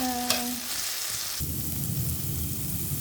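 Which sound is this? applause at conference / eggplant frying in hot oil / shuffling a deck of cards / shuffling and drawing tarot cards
eggplant frying in hot oil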